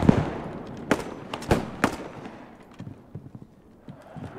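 Sharp gunshots crack out in a WWII game battle over Arnhem during Operation Market Garden, a few loud reports early followed by scattered fainter distant shots amid background rumble.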